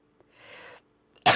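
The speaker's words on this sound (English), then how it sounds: "I'm going to sneeze." A soft breathy intake, then a sudden loud, explosive sneeze at the very end, close up.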